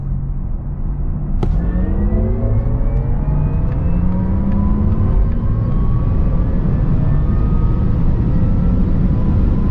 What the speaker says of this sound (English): Let's now see how fast the Taycan Turbo S goes from 100 to 200.